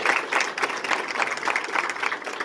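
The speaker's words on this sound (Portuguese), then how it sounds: "vamos aplaudir João Batista" A crowd applauding at a São João festival gathering, dense rhythmic clapping with a pulsing beat, steady and moderately loud with little talk.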